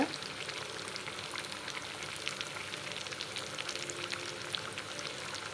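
Fish kebab pieces fry in hot oil with a steady, dense sizzle and crackle that holds evenly throughout, close and moderately loud, with no one speaking.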